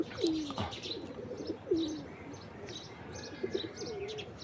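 Pigeons coo several times in soft, throaty phrases, with light chirps between them, moderately near and fairly quiet with no talking.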